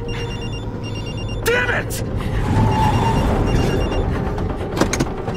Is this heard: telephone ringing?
yes